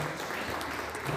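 Church congregation clapping in a brief, continuous wash of applause, fairly soft and steady throughout.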